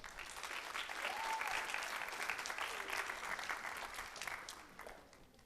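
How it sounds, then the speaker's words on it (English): An audience at a high school senior honors night applauds award recipients, a steady wash of clapping that swells, holds, then tapers off near the end, with a faint voice briefly audible within it. "Another round of applause, congratulations."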